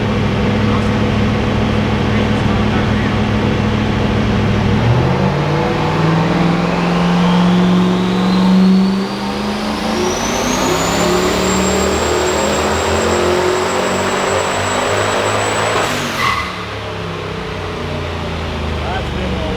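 A turbocharged 5.3 LS iron block V8 makes a dyno run, its loud close roar climbing steadily in pitch with a rising turbo whine, then cutting off sharply near the end, with voices audible over the engine.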